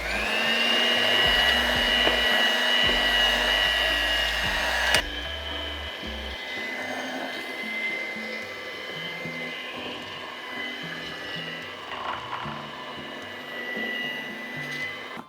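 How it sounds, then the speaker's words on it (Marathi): An electric beater with a hook attachment mixing dough makes a steady, whining motor drone with a bright tonal hum; it changes pitch and softens partway through as the load shifts, continuing alone without talk. "आता इलेक्ट्रिक बीटरच्या हुक अटॅचमेंटनी आपण हे ब्लेंड करणार."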